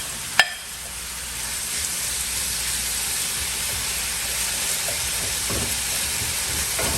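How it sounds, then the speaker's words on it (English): Vegetables added to a pan of hot oil for a shrimp and rice casserole, starting with a sharp clack followed by a strong, steady, close hiss of sizzling that continues without pause. "let's go ahead and put the vegetables in there."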